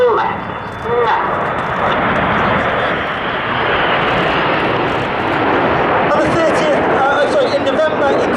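RAF Red Arrows jets flying in Concorde formation at an air festival produce a loud, continuous roaring engine rumble that swells and holds steady overhead, with crowd chatter and an announcer's voice over it.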